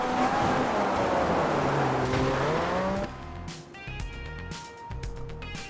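Rally car engine in the DiRT 3 video game, roaring steadily and shifting pitch as it revs, with tire noise, then dropping to a lighter, choppier drone with gear changes; close and loud, no talking.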